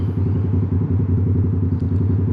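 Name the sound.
Yamaha R7 motorcycle engine while riding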